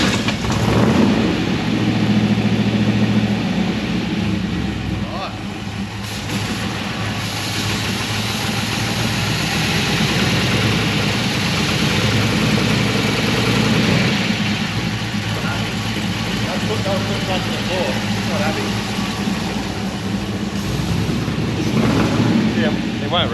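The LS V8-swapped 1964 Chevrolet Impala SS sits idling, a loud, close, steady low rumble that keeps a rough, even churn for the whole stretch.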